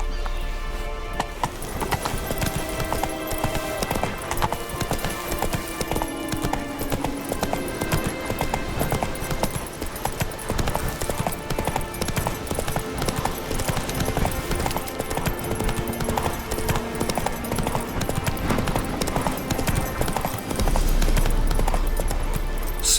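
Roach, Geralt's horse in The Witcher 3: Wild Hunt, gallops around Novigrad with steady, rapid hoofbeats over loud game music and ambience, and a brief neigh; no speech is heard.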